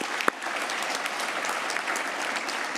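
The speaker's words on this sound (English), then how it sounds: "please applaud all of them" Audience applause in a hall at a closing session of a knowledge summit in Lyon, France, a steady even wash of many hands clapping, moderately loud, without talk.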